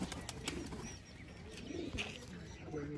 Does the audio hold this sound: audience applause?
no